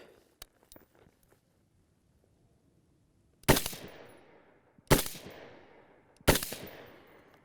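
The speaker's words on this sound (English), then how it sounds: "Okay, so we took 3 shots at the center dot." Three gunshots fired at a red dot target on a range, sharp loud reports spaced about 1.4 seconds apart, each trailing off in a short echo, after a few faint small clicks and handling sounds.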